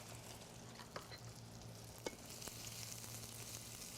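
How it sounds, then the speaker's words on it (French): Chicken stir-fry with lemon sauce being stirred in a pan: a soft, steady sizzle with a few light utensil scrapes and taps, fairly faint throughout, no talking. "on y donne un petit coup de brasse encore une fois. Et on y rajoute notre sauce"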